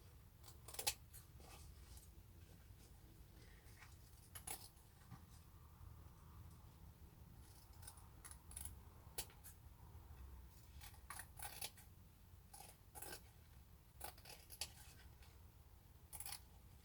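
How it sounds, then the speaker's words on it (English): Scissors fussy-cut fabric in a series of quiet, scattered snips spread over a soft, faint background. "That's why I'm fussy cutting her."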